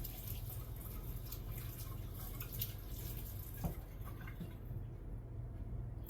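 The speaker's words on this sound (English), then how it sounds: "Let me wash my hand real quick." Tap water runs steadily into a kitchen sink while a hand is rinsed under the stream, a continuous close splashing wash with a brief knock partway through.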